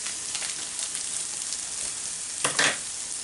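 Onion, garlic and a dry herb blend frying in a pan, a bright hissing sizzle throughout, with a short burst of louder crackle near the end where the pan is stirred.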